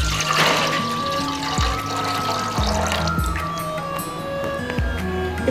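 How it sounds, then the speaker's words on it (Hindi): Water and milk poured into a saucepan for tea, a steady liquid splash with a few low clunks of the pan and vessel, close and continuous throughout. "मैं इसमें डाल दूँगी 1 ग्लास वाटर और हम इसमें डाल देंगे 1/2 केजी दूध"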